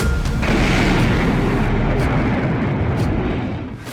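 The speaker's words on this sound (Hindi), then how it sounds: "इस धमाके पर जेलेंस्की के नए ऑर्डर की छाप लगी हुई है" A loud, heavy explosion roar in Moscow fills the whole clip, a dense rumbling blast that slowly fades toward the end.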